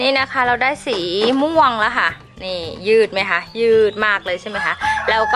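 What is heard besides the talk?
chicken clucking and crowing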